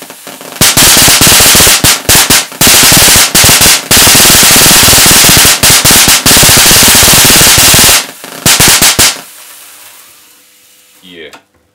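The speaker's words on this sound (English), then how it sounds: "Very loud sparks. So yeah, these are some big sparks" Big, loud high-voltage sparks crack from a 250 kV bipolar voltage multiplier, firing in dense rapid bursts like machine-gun fire for about eight seconds, then stopping abruptly into a faint electrical hiss.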